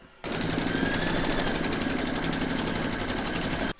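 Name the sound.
embroidery machine stitching round number 2 in the hoop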